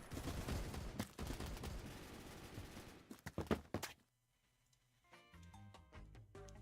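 MC51 rifle gunfire in the video game Phantom Forces, a rapid burst of close, loud shots for several seconds that drops off sharply, followed by quieter game sounds.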